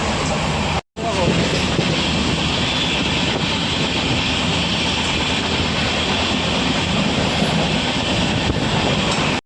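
A moving train at night rumbles continuously and loudly from inside, with a steady broadband roar and clatter broken only by a brief dropout near the start.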